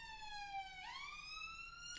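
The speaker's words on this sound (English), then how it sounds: "There goes the siren." A wailing siren in the Football Manager 2019 video game, one steady tone sweeping down and then climbing again, heard alone and at fairly low volume.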